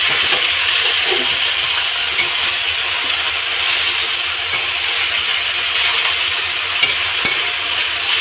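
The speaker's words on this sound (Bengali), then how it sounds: "লবণ দিয়ে এটাকে ভেজে নেব।" Elephant foot yam leaves frying with salt in a pan, a steady close hiss of sizzling oil with occasional small clicks and stirring taps, continuous and fairly loud with no talking.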